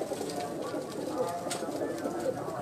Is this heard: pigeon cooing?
yes